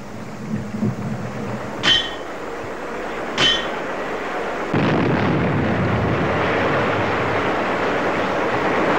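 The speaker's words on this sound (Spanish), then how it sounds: "el estruendo de las explosiones" Two sharp, heavy dynamite blasts a second and a half apart, then a broad continuous rumbling roar that carries on steadily to the end.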